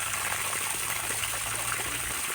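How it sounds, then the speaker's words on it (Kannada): Water gushes under pressure out of a pipe that has been opened to flush out dirt, likely at an areca palm plantation, a steady close rushing wash with no break. "ಬಿಡು ಕೆಳಗಡೆಗೆ ಬಿಡು, ಪೈಪ್ ನೀರು ಹೋಗಿ"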